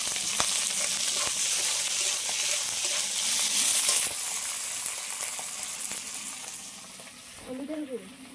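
Prawns frying in a pan with chopped onion and crushed garlic, a loud close sizzle with stirring scrapes that gradually quietens, ending in a brief rattle of the pan.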